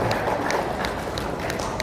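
Audience applause at a madrasah teachers' digital literacy event, a dense continuous patter of many hands clapping in a large room, fairly even throughout with no talking.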